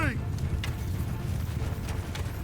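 Horse archers galloping in the video game Mount & Blade II Bannerlord, a rapid rumbling clatter of many hooves over battle noise, with a voice speaking over it.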